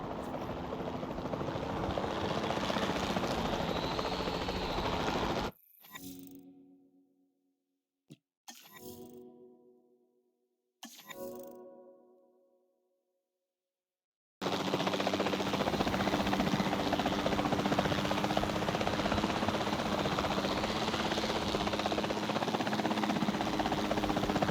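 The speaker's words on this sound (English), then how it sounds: "Then the sensible thing is to take a capture team helicopter." A capture team helicopter in Jurassic World Evolution gives a steady, loud rotor drone. It drops away into near silence with a few brief bursts, then returns at full strength.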